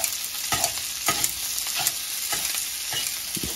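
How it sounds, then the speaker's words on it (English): Sausage sizzles steadily in a frying pan while being stirred and snipped apart with Cutco kitchen scissors, with sharp intermittent clicks and scrapes over a constant hiss. "I use the Cutco scissors as I'm frying it, and I keep chopping it up."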